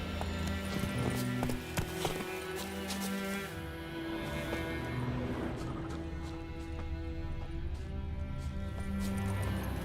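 A horse gallops in The Witcher 3, a steady run of hoofbeats carrying on beneath game music with sustained tones throughout.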